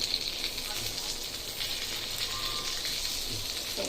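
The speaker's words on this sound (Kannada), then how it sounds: "ಸೊ ಈ ಥರ ಫ್ರೈ ಮಾಡ್ಕೋಬೇಕು ರವೆ ಉದುರುತ್ತೆ ನೋಡ್ಕೊಂಡು ಇದು ಮಾಡಬೇಕು" Jilebi fish coated in semolina (rava) frying in hot oil, a steady close sizzle with soft crackles running throughout, no voice over it.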